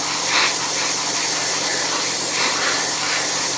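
An airbrush sprays paint onto a 1/35 scale Takom Chieftain Mk10 tank model, a close, steady airy hiss with soft pulsing swells as the spray passes.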